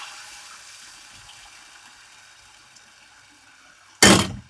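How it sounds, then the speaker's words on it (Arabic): Quiet room tone, then a sudden loud gush as vinegar is poured into a cooking pot of Alexandrian koshari sauce, briefly splashing before fading. "ننزل طبعا بالخل اهو"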